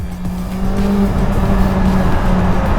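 A 2022 BMW S1000XR motorcycle with an Akrapovic exhaust holds a loud, steady droning roar close by, its exhaust note sustained with a slight rising pitch.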